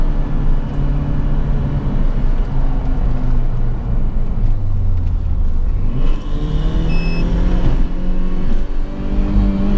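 A tuned Opel Vectra 2.0 Turbo accelerates hard through the gears, its loud engine note climbing and dropping at each shift, heard from inside the car with a turbo whistle near the end.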